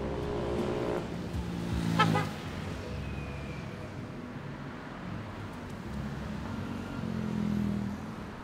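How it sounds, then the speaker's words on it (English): Cars passing by on a street, with a nearer vehicle swelling past early on and another one later, over a low steady background of traffic. "where cars were passing by."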